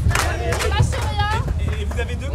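A crowd applauds at an outdoor market during a European election campaign event, a dense steady clatter of clapping mixed with cheers and chatter throughout.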